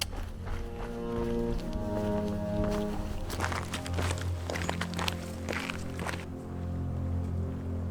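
Footsteps of a jogger descending a forest trail in Banff National Park, with steady rhythmic thuds and crunches close to the microphone over a continuous low outdoor rumble.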